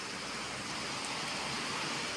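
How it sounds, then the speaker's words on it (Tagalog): Heavy rain falling outdoors, a steady dense broadband wash of downpour holding at an even loudness throughout, with no voices. "Malakas ang ulan."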